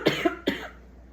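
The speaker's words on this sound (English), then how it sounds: "this cough isn't helping" Two quick, close coughs from a woman indoors, the first a double hack and the second a single sharp burst, then quiet.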